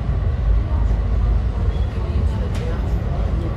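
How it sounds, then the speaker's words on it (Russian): Inside a retro Nostalgia tram moving slowly through Antalya, a steady low rumble of wheels and motor runs throughout, with someone talking over it. "Трамвай едет медленно."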